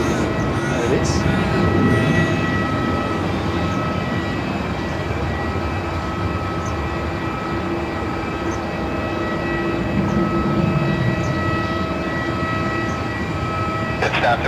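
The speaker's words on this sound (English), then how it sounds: "So the Jetstar Dreamliner, Jetstar 7 going to Singapore today." Jetstar Boeing 787 Dreamliner airliner at Melbourne Airport, a steady distant engine roar and whine that holds throughout, with speech faintly under it.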